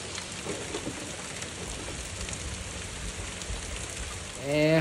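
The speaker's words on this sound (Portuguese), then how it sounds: "a chuva apertou. Não passa por nada, caindo o mundo aqui" Heavy rain pours down outdoors at a fishing spot on the Córrego das Antas, a steady soft hiss throughout that swells into a louder burst at the very end.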